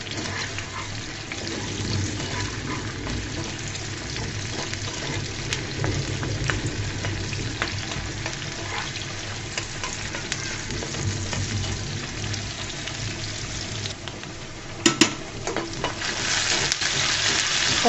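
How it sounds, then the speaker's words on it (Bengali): Jute leaf filling fries in a pan until reddish, giving a steady, fairly loud sizzle with a few sharp stirring knocks near the end, no talking. "এটাকে লাল লাল করে ভেজে নিব।"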